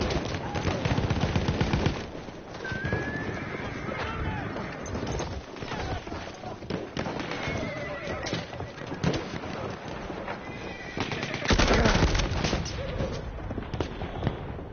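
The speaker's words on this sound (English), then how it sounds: "Enemy machine gun sighted." Dense, continuous gunfire and explosions fill a chaotic Battlefield 1 multiplayer battle, with rapid machine gun bursts and crackling shots throughout, loud and close, swelling near the end.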